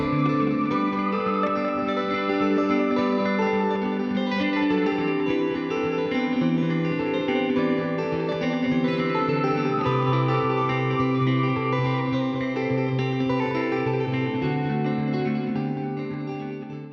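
Live street music playing in Brindisi, Italy, at night: a steady, full band sound with effects-laden guitar, sustained harmonic layers and reverb, continuous and fairly loud for the whole stretch with no talk, fading slightly at the end.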